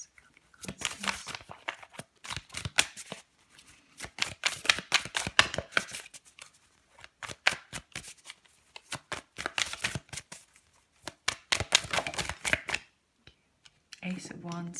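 Tarot cards are shuffled in repeated bursts of rapid riffling and crisp flicks, close and clear, separated by short pauses, with a voice briefly at the end.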